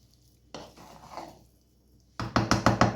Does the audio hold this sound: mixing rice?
yes